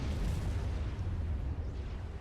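Video game explosions as a cruiser shells a T2 mass extractor on an island, a dense, continuous low rumbling boom with layered blasts running the whole stretch, loud and unbroken.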